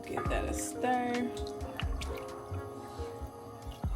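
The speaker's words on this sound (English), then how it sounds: "Give that a stir." A spoon stirs a pot of water sweetened with honey, heating toward a boil for bagels, giving soft intermittent clinks and gentle watery swishes, quiet and close.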